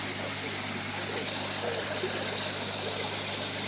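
Water from a small waterfall spills steadily into a homemade koi pond, a continuous, even rush and trickle with no break and no voices.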